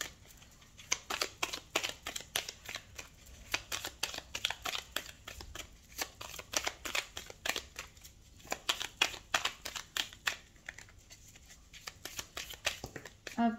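Tarot cards are shuffled by hand in repeated riffling, flicking bursts, close and fairly quiet, with brief pauses between handfuls.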